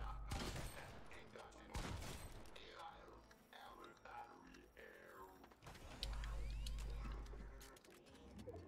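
Fortnite gunfire rings out in a few sharp distant bursts, spaced apart across quiet game ambience, with a low rumble building near the end and no talk.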